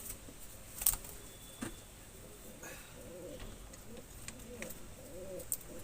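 A pigeon, a pigeon fancier's loft bird, gives soft, repeated coos at close range in a quiet room, with a few sharp clicks and faint background sounds between the calls.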